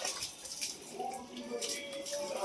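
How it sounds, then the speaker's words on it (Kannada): Water running steadily as a container is filled during household chores, a continuous splashing wash that stays fairly even throughout, with no talk over it. "ನೀರು ತುಂಬಿಲಕತ್ತೀನಿ"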